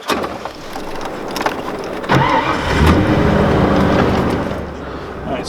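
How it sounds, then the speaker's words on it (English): A Ford F350 plow truck engine cranks and catches around two seconds in, then settles into a steady close idle, with a few clicks and knocks before it. "I'm going to fire this truck up and I'll show you guys."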